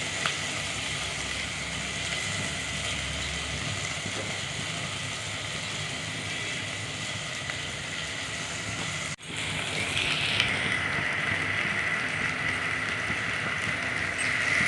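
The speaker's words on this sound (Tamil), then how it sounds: "இது லைட்டாக எண்ணெயில் வதங்கினதுக்கப்புறம் தக்காளியை பிழிஞ்சு விட்டுடலாம்." Bitter gourd softening in hot oil in a pan, a steady soft sizzle and crackle running throughout at moderate level, with a brief dip partway before the frying hiss resumes.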